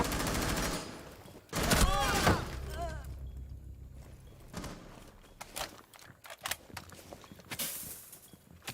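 Gunfire exchange in a competitive tactical shooter esports match, bursts of rapid shots up front and scattered single reports later, heard under a commentator's talk.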